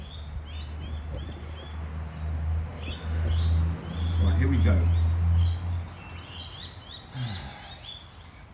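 Small birds chirping in repeated short tweets, close and clear, over a low steady hum, while someone talks briefly partway through.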